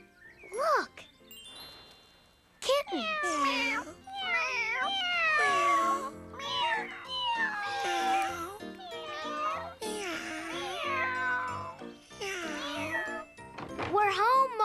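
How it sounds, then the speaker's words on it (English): Kittens in a basket meowing in a cartoon: a rapid string of high, rising and falling mews close up, with a bright jingle at the start and children's voices nearby. "Look. Kittens."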